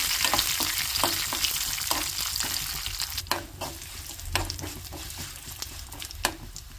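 Garlic tempering for dal crackles and sizzles in hot oil, a steady frying hiss broken by sharp pops and the scrape of stirring.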